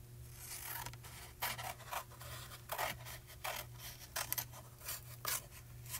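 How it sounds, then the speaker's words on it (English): Scissors snipping around a piece of foil kit cardstock for paper crafting, a run of close, crisp cuts in irregular bursts over a low steady hum, with no talk. "cutting the section you want out with scissors first"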